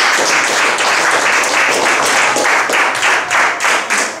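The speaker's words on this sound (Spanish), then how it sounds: "Denle fuerte aplauso al Señor." Loud, sustained applause from a church congregation, many hands clapping together in a dense, steady roar close to the listener.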